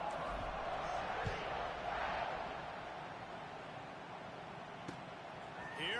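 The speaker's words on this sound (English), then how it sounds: "this crowd is buzzing after that last score" A football stadium crowd at an Auburn versus Ole Miss college game buzzes steadily in a broad, sustained roar, with a few brief thuds and a faint whistle-like tone near the end.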